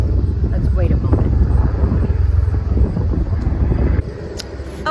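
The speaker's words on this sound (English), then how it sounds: "we've got some helicopters going over" Helicopters pass over a garden with Greenstalk planters, a low steady rotor rumble with wind noise while someone talks over it.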